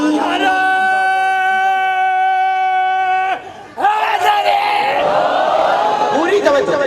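Crowd at a Muharram religious gathering chanting slogans together, a sustained loud collective call with held vocal tones, a brief pause, then another swelling round of shouting voices.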